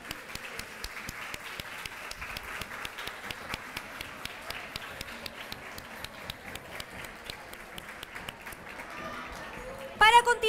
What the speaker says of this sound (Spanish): Un cariñoso aplauso para nuestro cuarto año medio.